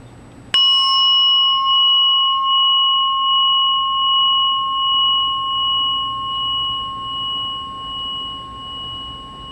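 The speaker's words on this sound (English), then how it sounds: "Let's go ahead and hear the bell and listen to its lovely sound." An antique brass Japanese Buddhist altar bell, a rin, is struck once, giving a clear bright tone that rings on and slowly fades with gentle pulsing over several seconds.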